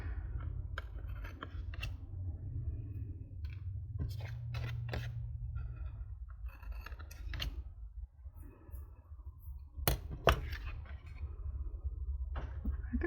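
Scissors snip close by through washi tape for a paper collage, a series of sharp, crisp clicks and cuts in irregular bursts over a quiet background.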